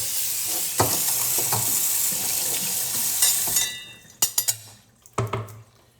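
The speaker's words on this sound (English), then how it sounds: "I'm going to rinse off my cutting board" Tap water runs steadily into a kitchen sink as a cutting board used for broccoli is rinsed, then the flow stops and a few knocks and clatters of the board follow, close and fairly loud, no talking.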